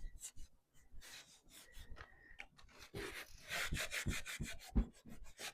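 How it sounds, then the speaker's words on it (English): Clear Fusion wax being rubbed by hand onto painted wood furniture, a small thrift-store cubby unit, giving soft, irregular scuffing and wiping strokes at close range, fairly quiet with a few sharper brushes near the end. "So I'm just using Fusion's clear wax just to make sure everything is sealed in."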